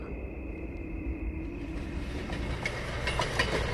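Breakdown train arriving in an animated railway story, a low rumbling roll that builds gradually with faint clicking and rattling of wagons growing louder toward the end.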